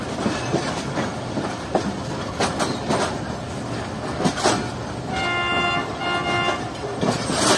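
A fast train rushes past from behind, a loud continuous roar with rhythmic clattering wheel bursts, and a horn sounds briefly near the end.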